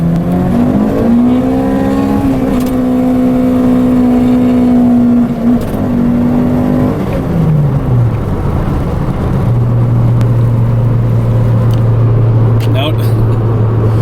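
A car with an engine that is running fine pulls onto a highway in second gear on wet roads, the engine note rising steadily and then dropping into a lower steady drone, loud and close from inside the cabin.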